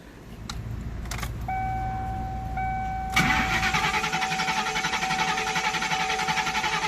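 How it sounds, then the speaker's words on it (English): A car engine cranks repeatedly without catching, after keys jangle and a chime sounds. The rapid, steady starter whir carries on loudly with no voices. "And I can be cranking like this forever and ever and ever, and it won't start"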